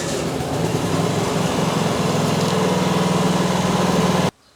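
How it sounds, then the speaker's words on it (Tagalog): A portable 5,500 generator runs steadily during a test, giving a loud, even engine drone with a constant hum, then cutting off abruptly at the end. "Testing naman po natin yung pangalawang generator ninyo."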